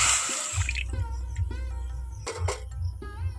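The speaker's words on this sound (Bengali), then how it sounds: "আমি এখানে বেশ কিছুটা জল নিয়ে নিচ্ছি" Water pours into a pan for sugar syrup, beginning with a short bright splash and then settling into gentle trickles and drips with faint ringing tones, with no voices.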